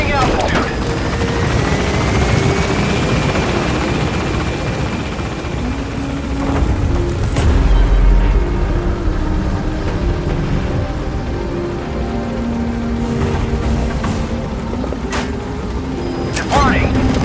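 A military helicopter lifting off in the game Metal Gear Solid V, its loud steady rotor drone and engine whine filling the scene with a deep rumble, close and continuous, with brief radio voice chatter over it.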